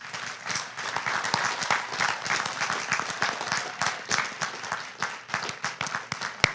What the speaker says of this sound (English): Would our vice presidents and deans please stand for a round of applause?